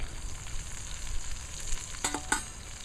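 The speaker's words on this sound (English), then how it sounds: "now I want to start browning that a little bit" Food browns in a pan over a wood fire, a steady close sizzle and crackle with a couple of sharp clinks of a utensil stirring near the end, no talk.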